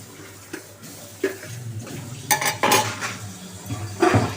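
A burger dosa is flipped on a pan: a few close metal spatula scrapes and clinks over a faint sizzle, with louder scraping toward the end and no voices.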